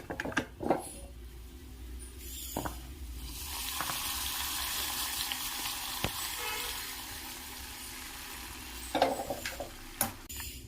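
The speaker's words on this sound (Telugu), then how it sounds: "ఇప్పుడు ఈ పోపుని మనం చేసుకున్న పెసరపప్పు చారులో వేద్దాం" A hot tempering is poured into moong dal rasam, giving a steady close sizzle that swells and holds for several seconds, framed by a few sharp clicks and knocks of a spoon or pan, with no talking.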